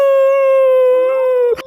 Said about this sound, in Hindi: सारे कुत्ते आ गए क्या?